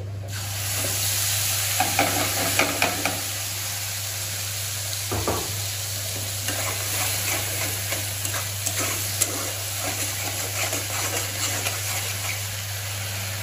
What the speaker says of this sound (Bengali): এবার আমি এই তেলের মধ্যে দিয়ে দেবো সর্ষের পেস্টটা, যেটা আমি করে রেখেছি।